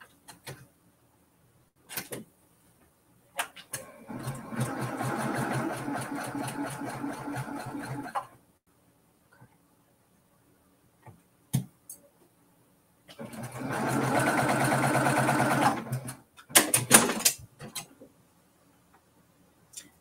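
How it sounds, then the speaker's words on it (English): Sewing machine stitching quilt block fabric for a star block, two loud sustained runs of rapid stitching separated by pauses and small clicks and handling sounds, close and alone without talk. "Now I'm going to sew it again."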